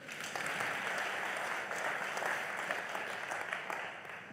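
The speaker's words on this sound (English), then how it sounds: "You can clap for them." Steady audience clapping during a virtual book launch, a soft, continuous patter of many hands held at an even level throughout.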